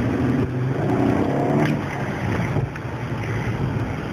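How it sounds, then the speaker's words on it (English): Steady, loud rumble of a car engine and road noise from inside a moving car, continuous with no talking. "Let's hear engine noise."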